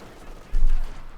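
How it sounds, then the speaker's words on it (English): Heavy mortar fire from a Gnadenwerfer in Company of Heroes 2, heard as a single muffled low thump that swells for about a third of a second before fading, with no voices over it. "More mortar fire from the Gnadenwerfer"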